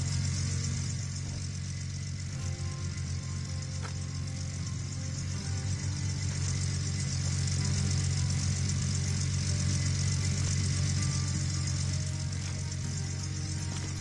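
A truck engine idles steadily in the Gold Rush video game, a low constant rumble that runs unbroken and fairly loud for the whole stretch with no voices over it.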